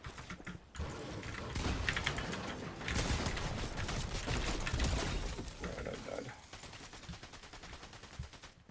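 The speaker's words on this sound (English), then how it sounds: "You know this keyboard is too loud." Loud computer keyboard being typed on during a live stream, a dense run of clacking keystrokes in rapid bursts, with quieter stretches at the start and end.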